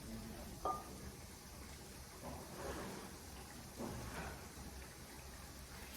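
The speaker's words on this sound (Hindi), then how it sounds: "मैं उठी तब बारिश हो रही थी, अब कितने बजे से हो रही है" Morning rain falling outdoors, a faint, continuous hiss of drops with a few slightly louder patters scattered through it, steady and distant, with no talking.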